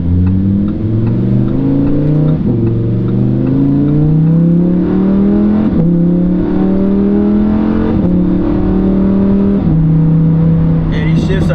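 A Lamborghini Huracan revs hard from inside the cabin, its engine note climbing repeatedly and dropping at each quick paddle upshift, loud and close, with people talking over it.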